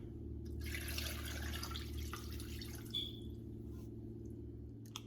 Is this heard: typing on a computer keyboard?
no